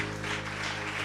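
A congregation at a church service applauds for Jesus with a dense, continuous wash of clapping that fills the space evenly, steady and fairly loud over a low hum.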